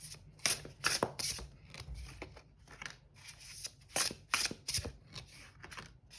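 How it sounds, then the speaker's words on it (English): Matte tarot cards being shuffled in quick riffling bursts, a papery flutter repeating several times up close with no talking. "It shuffles really nicely. Like matte type of cards."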